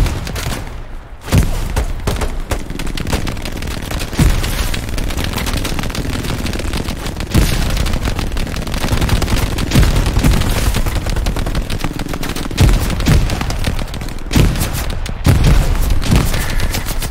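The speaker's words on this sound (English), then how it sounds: "I'm gonna throw more grenades over the hedge" Sustained, loud battle din in the Hell Let Loose video game, with steady gunfire and machine-gun bursts layered over repeated grenade blasts and booms, filling the whole stretch with little pause.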